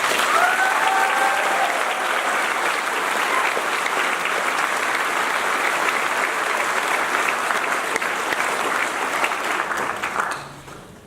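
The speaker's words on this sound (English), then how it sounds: "Could we please give one big round of applause to all of our staff" A large audience at the 2017 Korah High School graduation ceremony applauds the school staff. The clapping is loud and sustained for about ten seconds, then tapers off quickly at the end.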